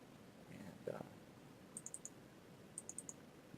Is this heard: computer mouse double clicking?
yes